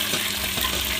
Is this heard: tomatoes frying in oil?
yes